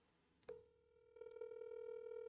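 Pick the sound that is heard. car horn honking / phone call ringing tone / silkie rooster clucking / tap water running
phone call ringing tone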